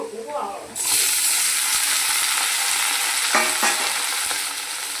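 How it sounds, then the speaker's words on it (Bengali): Chopped tomatoes with onion and green chilli hit a hot pan and burst into loud, steady frying, with a few stirring scrapes partway through and the hiss easing slightly at the end. "টমেটোটা আমার ভাজা হয়ে গেছে।"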